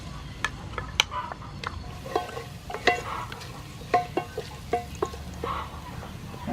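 Chopped garlic hits hot soybean oil in a pan, a steady low sizzle punctuated by sharp clicks and scraping stirs at irregular intervals, close and without any talk.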